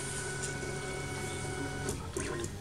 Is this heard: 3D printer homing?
yes